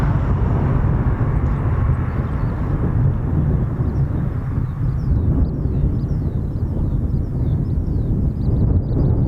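Military aircraft engines spooling up at RAF Mildenhall, with a KC-135 Stratotanker and an MC-130J nearby. A loud, steady low roar with wind noise on the microphone, and higher chirping from birds partway through.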